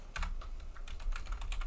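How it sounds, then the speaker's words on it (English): Rapid typing on a computer keyboard, a dense run of light, uneven clicks and key taps filling the whole stretch at close range with no voices. "I'm typing the wrong thing. I hit the wrong button."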